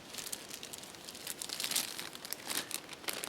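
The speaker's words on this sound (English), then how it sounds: "let me get my plastic bag out." Plastic bag pulled out and crinkled outdoors during field preparation of a wild rabbit, a close, continuous rustling crackle with sharper bursts, no speech.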